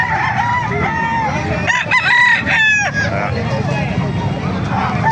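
Roosters crow loudly and repeatedly at a busy chicken market in Calumpit, Bulacan, their calls rising over steady crowd chatter, clucking and occasional traffic.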